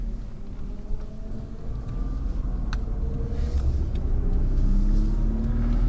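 A Nissan GT-R engine on a race track holds a steady, low rumble that builds gently under light throttle, close up and continuous with no talking.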